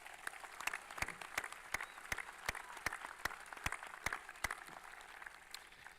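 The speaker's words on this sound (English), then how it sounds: "Can we give them a round of applause" Sustained applause from an audience at a graduation ceremony, steady clapping with scattered louder claps standing out, fairly distant and even throughout.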